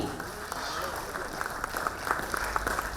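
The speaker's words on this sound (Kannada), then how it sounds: "ವೈದ್ಯರಿಗೆ ಒಂದು ಚಪ್ಪಾಳೆ ಮೂಲಕ ಪ್ರೋತ್ಸಾಹ ಕೊಡೋಣ" Audience applause at the Karnataka Vaidya Ratna 2024 award ceremony honouring doctors, a faint, steady patter of clapping from a crowd with scattered voices mixed in.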